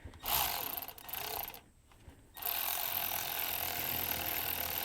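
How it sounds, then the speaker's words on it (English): Ratchet clicks away at a 13mm bolt holding a pulley on a GM OBS truck's Vortec V8 engine: steady, close mechanical ratcheting with a brief lull midway, then continuous busy clicking. "we're going to remove this 13mm bolt that's holding this pulley in place"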